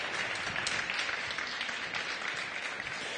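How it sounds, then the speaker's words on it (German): A lecture audience gives a short burst of warm applause: many hands clapping in a steady, even wash at moderate loudness, with no talking over it. "Herzlicher Applaus."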